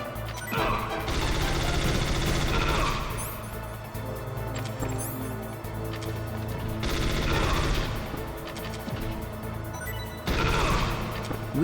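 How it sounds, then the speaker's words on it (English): Sustained rapid bursts of FAMAS rifle fire in Metal Gear Solid on PS1, loud and dense, with several waves of automatic shots and crashing impacts layered over constant game background sound. "the FAMAS can clean up the remaining soldiers. Its rapid fire is great for disrupting their ability to shoot back"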